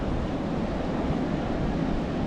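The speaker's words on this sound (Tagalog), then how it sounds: "nanatili pa rin malakas yung alon kahit palabas na po ang bagyo dito sa amin" Steady roar of strong ocean waves crashing as a typhoon passes, mixed with gusting wind buffeting the microphone, continuous and fairly loud.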